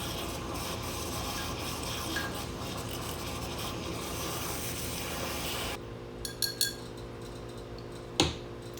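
A small handheld milk frother whisking coffee, giving a steady faint buzzing whir that cuts off partway, followed by a few light clinks and a sharper knock.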